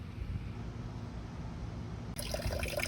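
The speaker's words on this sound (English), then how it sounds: "with the clear water I just put in, just going right through it" Clear water runs through the radiator of a 2001 Mercedes SLK 320 (R170) during an antifreeze change, a steady low gushing flow with a brighter splashing texture entering near the end.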